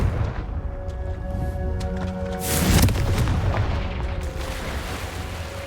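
A Confringo blasting spell explosion in Hogwarts Legacy booms out as one loud, sudden blast over a low humming game backdrop, followed by a rumbling decay.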